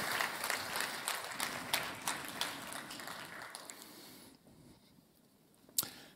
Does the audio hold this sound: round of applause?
yes